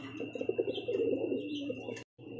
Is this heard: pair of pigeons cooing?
yes